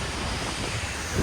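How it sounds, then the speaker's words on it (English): Strong wind buffets the microphone at a car wash during a Saab owners' meet, a constant rushing roar with no pauses. "Super windy"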